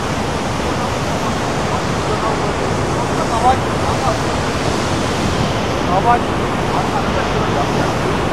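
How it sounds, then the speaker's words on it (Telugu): Waterfalls at Martvili Canyon in Georgia, heard from close by as a loud, continuous broadband rush of falling water with no break across the whole stretch. "ఇది ఇంకా closure view for the water falls"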